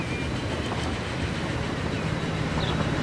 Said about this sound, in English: And you can hear that diesel engine